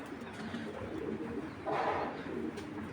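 A domestic pigeon sold as a pet bird gives a short, low cooing call over quiet background noise.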